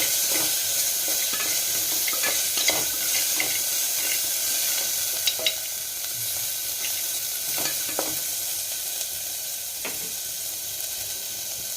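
Chopped carrot and tomato fry in hot oil with a steady, close sizzle, punctuated by occasional light clicks of stirring against the pan.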